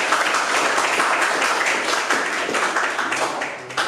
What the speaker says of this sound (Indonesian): terima kasih tepuk tangan untuk